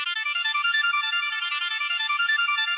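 A bright, thin hardstyle synth lead plays a quick repeating melody with its low end filtered away, steady and loud, with no voices.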